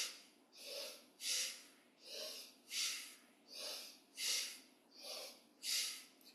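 Deep rhythmic breathing during a gentle exercise session, about eight slow, even breaths alternating inhale and exhale, heard close up and soft in a quiet room.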